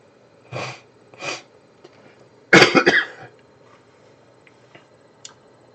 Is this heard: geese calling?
no